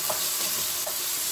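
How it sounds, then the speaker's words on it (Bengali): Chopped onions frying in a pan are stirred briefly, giving a continuous close sizzle with a couple of soft scrapes. "পেঁয়াজগুলো আমি একটু নাড়াচাড়া করে নিব"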